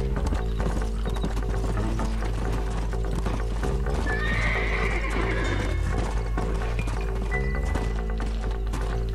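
A horse in the video game Red Dead Redemption gallops with rapid, steady hoofbeats and lets out a loud neigh midway, over a constant game soundtrack.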